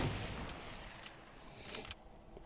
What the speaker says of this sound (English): Was someone was shooting it with an AR.